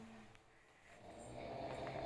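Sleeping patients snore loudly, heard as faint, low rasping breaths that swell toward the end.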